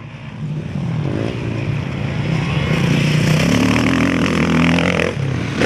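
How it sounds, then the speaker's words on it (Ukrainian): Motorcycles racing at a motocross competition, loud engines revving and droning continuously as the machines pass at close range, with rising and falling pitch and some clattering. "За перебігом перегонів на мотоциклах стежила Світлана Поробок."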